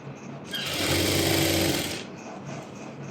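A sewing machine stitches the folded edge of fabric for a circular maxi dress, giving one loud, close, steady whirring run of about a second and a half that starts and stops abruptly.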